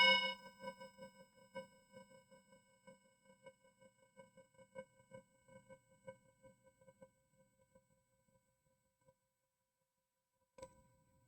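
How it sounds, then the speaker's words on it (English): A chime rings out with a bright struck tone, then a long series of soft, rhythmic metallic tones that fade gradually over several seconds before one final faint strike near the end. "As we listen to the chime"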